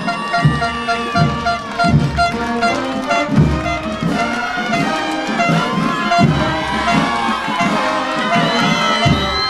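A large crowd at a school parade in Paucarpata, Arequipa, Peru claps and cheers loudly and continuously, with shouts and children's voices mixed into the steady roar.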